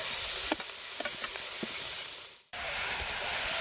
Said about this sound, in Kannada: ಈರುಳ್ಳಿ ಟೊಮೊಟೊ ಎಷ್ಟು ಚೆನ್ನಾಗಿ ಫ್ರೈ ಆಗುತ್ತೆ